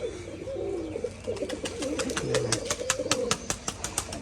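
Free-roaming pigeons at a Rajshahi colour-matching pigeon farm coo in soft, repeated phrases close by, joined by a quick run of sharp taps or flaps in the second half.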